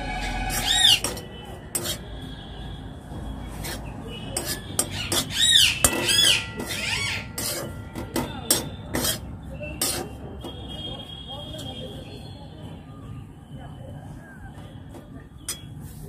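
Cashew nut powder stirred as it fries in a pan: scattered scraping clicks and clinks of spoon against metal, sporadic and close, with a voice talking intermittently and a faint sizzle underneath.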